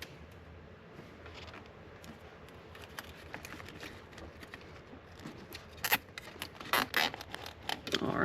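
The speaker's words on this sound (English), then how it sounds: "And I'm gonna zip tie it up here." Zip tie being ratcheted tight around the wiring of an aftermarket oil pressure gauge on a Nissan 370Z, heard as close, quick zipping scrapes in short bursts toward the end over a faint background.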